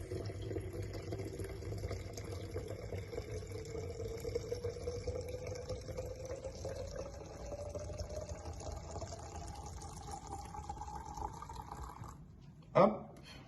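Rum pours steadily into a jar of pears and raspberries, a continuous liquid gurgle whose pitch rises as the jar fills. The pour is close and moderately loud and ends with a sharp clink of glass.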